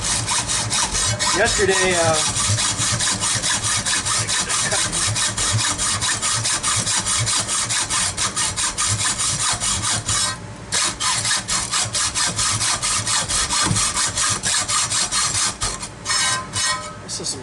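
Hacksaw, likely with a dull blade, cutting tough aluminum: a loud, steady rasping stroke after stroke that runs almost nonstop, with a brief pause partway and a voice speaking early on.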